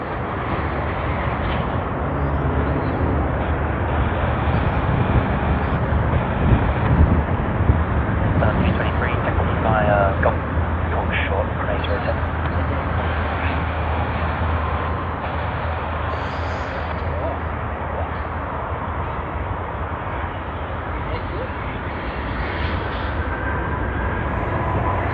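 Air New Zealand jet airliner on its takeoff roll at Sydney Airport, a broad, steady engine roar that holds loud and continuous throughout, with occasional voices talking over it.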